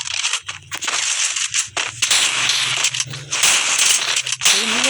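Video game gunfire crackles in rapid, sharp bursts, with loud repeated shots over a steady low hum while a voice talks underneath.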